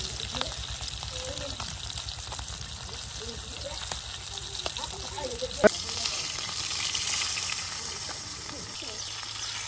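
Taki fish sizzles and crackles steadily in hot oil, a continuous frying hiss with an occasional clink and a voice speaking quietly nearby.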